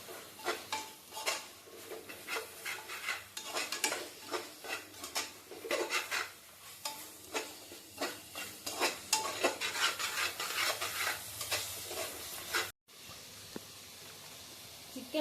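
Spoon scraping and stirring through a pan of sautéed tomatoes as curd is mixed in for chicken biryani, steady rhythmic strokes with a light sizzle and pan clatter close up, a brief pause near the end.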